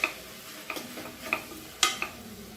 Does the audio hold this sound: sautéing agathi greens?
yes